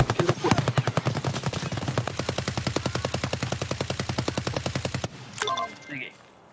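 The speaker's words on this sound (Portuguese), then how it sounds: "quando começou a rolar o tiro aqui" Automatic gunfire in Escape from Tarkov at the Customs map, a long rapid burst of evenly spaced shots lasting about five seconds, then a couple of brief sounds as it stops.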